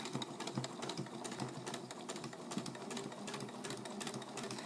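A sewing machine stitching fabric, running at a fast, even mechanical chatter with steady needle strokes, close up and continuous throughout, with no talk.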